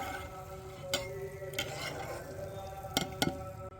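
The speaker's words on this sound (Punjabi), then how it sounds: "ਸੇਮ ਇਸੇ ਤਰੀਕੇ ਨਾਲ ਦੂਜੇ ਵੀ ਫਰਾਈ ਕਰ ਲੈਣੇ ਆ" Snacks frying in hot oil give a quiet, steady sizzle, broken by a few sharp clinks of a utensil against the pan.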